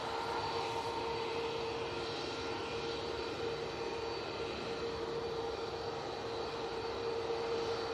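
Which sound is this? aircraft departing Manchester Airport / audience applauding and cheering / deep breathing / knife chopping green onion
aircraft departing Manchester Airport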